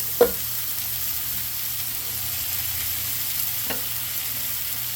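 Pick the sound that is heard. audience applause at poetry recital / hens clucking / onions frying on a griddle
onions frying on a griddle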